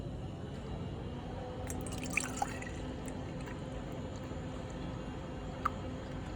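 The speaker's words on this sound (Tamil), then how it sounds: "உங்களுக்கு மில்க்கை ஊற்றி காட்டுறேன் பாருங்களேன்." Milk poured into a steaming pitcher at a coffee bar, a soft continuous liquid trickle with a few light drips and splashes over a low steady background hum.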